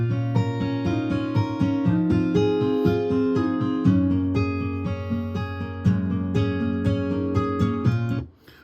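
Looping guitar riff that forms the main part of the song, repeating steady harmonic phrases with a bass line underneath, played alone for about eight seconds before cutting off abruptly.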